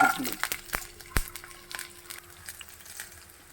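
Garlic and curry leaves fry in hot oil with a soft crackling sizzle, broken by a few sharp pops and stirring scrapes, heard close under a person's talking.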